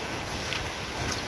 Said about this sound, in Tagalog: Parang malakas na naman hangin.